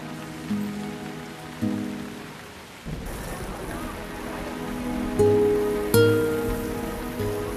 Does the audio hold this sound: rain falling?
yes